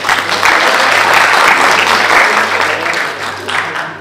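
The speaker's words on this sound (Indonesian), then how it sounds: "Ya, tepuk tangan untuk semuanya." Dense, loud applause from an audience at an alumni association gathering, steady and close for about four seconds before easing slightly, with a low hum underneath.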